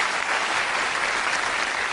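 Studio audience applause on the Jeopardy quiz show, a dense steady wash of many hands clapping at full volume without pause.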